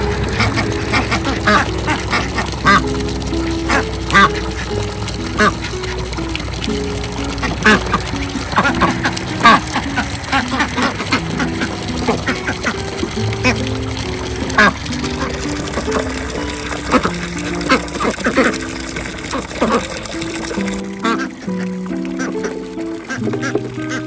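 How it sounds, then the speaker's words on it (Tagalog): Ducks quacking agitatedly beside a swimming pool in the Virginia countryside, loud overlapping quacks and honks nearly nonstop, with some speech faintly mixed in. "Tignan mo yung mga itik nagagalit na."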